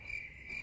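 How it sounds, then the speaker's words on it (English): Crickets chirp in a steady high-pitched trill, faint and continuous, with a soft low background hum. "He heard the crickets chirp"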